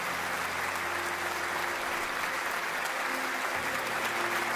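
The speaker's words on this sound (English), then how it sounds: "Please give him a big, big round of applause." Steady, dense applause from an audience at a Crown Master promotion ceremony, sustained and fairly loud throughout, with faint tonal music or hum running beneath the clapping.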